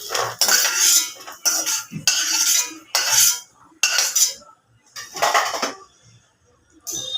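A metal spoon scoops roasted peanuts out of a pan in about seven sharp scraping strokes, each one loud and close, separated by brief pauses.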